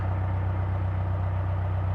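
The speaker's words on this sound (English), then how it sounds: "just letting the engine warm up a little bit" Canal boat engine warming up at idle in the early morning, a steady low diesel thrum, moderately close and unchanging, with no other sounds.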